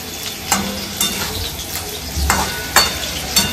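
Fish frying in a pan, a loud, steady sizzle of hot oil close by, with the scrape and clack of a utensil against the pan coming every half second or so.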